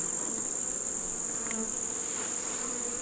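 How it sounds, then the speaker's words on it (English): Honey bees buzz steadily and densely around brood frames pulled from a hive in late summer, a constant close hum that stays even throughout with no talk. "fuzzy bees right there"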